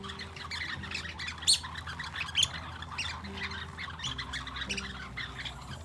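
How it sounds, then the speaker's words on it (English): Small bird squawks and chirps repeat over a soft background with low sustained tones, fairly faint and steady throughout. "We have a little bird sound."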